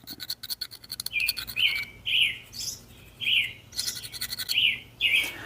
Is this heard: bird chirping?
yes